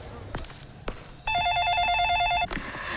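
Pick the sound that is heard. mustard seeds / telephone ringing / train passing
telephone ringing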